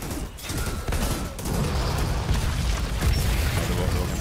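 Rapid bursts of gunfire and booming blasts from a sniper rifle fight in the shooter game Outriders, loud and continuous with dense overlapping shots and no talk.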